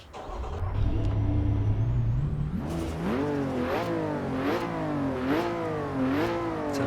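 Lotus Emira with a six-speed manual gearbox in the racing game Assetto Corsa EVO: after a steady idle, the engine revs up and blips repeatedly in a rising and falling rhythm, loud and close with no talking.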